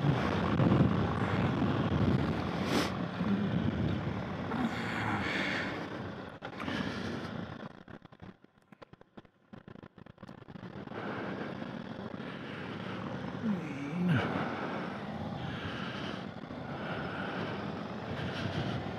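An Indian Chief motorcycle fitted with stage two cams rides along the road, its engine loud and rough up close, briefly dropping away to near quiet midway before the throttle returns and the rumble builds again.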